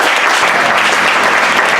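A church congregation at a worship service claps in dense, continuous applause, loud and close, with no pauses.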